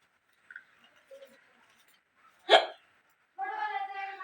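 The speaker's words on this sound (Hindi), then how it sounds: "काफी दिनों के बाद मुझे हिचकी आई है।" A single sharp hiccup from a person pops out clearly near the middle, set between quiet stretches, followed by a short voiced, bleat-like vocal sound.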